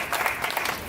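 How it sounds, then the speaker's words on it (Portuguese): Crowd applause at a Carnival 2019 press event, a brief steady burst of clapping throughout, fairly loud and close. "Aplauso para esse dia mais."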